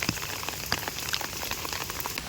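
Heavy rain patters densely on a surface, with individual drops pinging sharply over a constant close wash of falling water.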